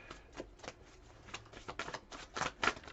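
Tarot cards are shuffled nearby, quiet papery flicks and slides in irregular bursts that grow a little louder toward the end, with no talk.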